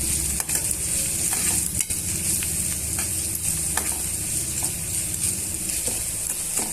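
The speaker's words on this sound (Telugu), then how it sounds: "1 table spoon fresh ginger garlic పేస్ట్ని యాడ్ చేసుకొని ఇవన్నీ బాగా మిక్స్ చేసుకొని పచ్చివాసన" Ginger garlic paste and green chillies frying in a pan over a medium flame, a dense, loud continuous sizzle with occasional spatula scrapes and stirring clicks.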